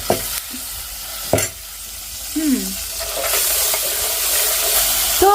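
Spices hit hot oil in a pan on a home stove, bursting into a loud, steady sizzle with stirring clatter, a few sharp clanks early on, and frying hiss that swells and stays strong to the end.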